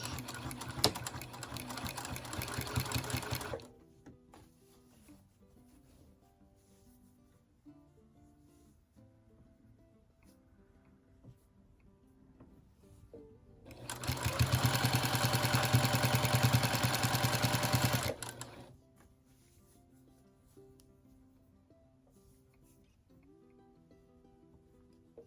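A sewing machine back stitching a baby quilt, running in two loud bursts of rapid clattering stitching, the first at the start and the second a longer run midway, with quiet pauses between.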